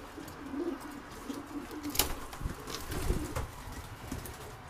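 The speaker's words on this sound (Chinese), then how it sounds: "这都是刚拿过来的小鸽子" Young pigeons coo softly in a loft, with low, quiet, muffled calls and occasional brief rustles or wing flaps.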